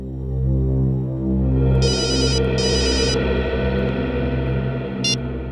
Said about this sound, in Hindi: पंकज को फोन करो और पूछो मंगल उस डॉक्टर गौरव का कुछ पता चला?